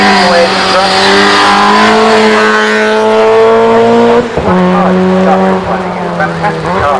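A car with a 1.6 litre naturally aspirated four-cylinder engine climbs the Shelsley Walsh hill climb at full throttle, engine loud and close, rising steadily in pitch through the gears with a brief dip at a shift before climbing again.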